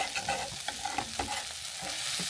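Broth poured into village-style pigeon bhuna curry sets off a loud, dense, close sizzle and hiss with bubbling and stirring scrapes, continuous for a couple of seconds.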